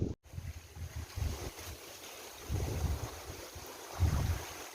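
Wind blows through dwarf bamboo leaves beside a wooden lakeside boardwalk at Jangseong Lake in South Jeolla, making a soft, continuous rustle that swells in gusts, with some low rumbling wind noise on the microphone and no talking.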